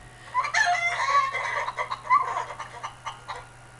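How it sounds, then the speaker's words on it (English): Farmyard chicken clucking sound effect used in a barnstorm effect within a flight simulator, a few short clucks and a crow-like call playing faintly in the background, alone without talk. "you could hear the chicken there in the background"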